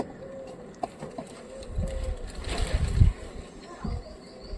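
Giribaz pigeons in a loft give soft coos early on, followed by rustling, fluttering and shuffling movement that swells and then fades, all close by, with a voice faintly present.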